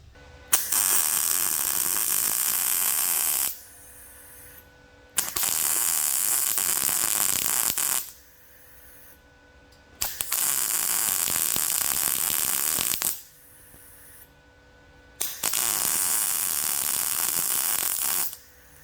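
Welding stitches along a seam on a rat rod: four sustained buzzing, crackling bursts of a few seconds each, separated by short quiet pauses, up close.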